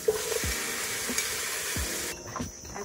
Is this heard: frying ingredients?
yes